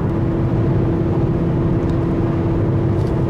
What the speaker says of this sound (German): dass dieses künstliche Geräusch bei Tempo 120 den Wagen lauter macht, als er sein müsste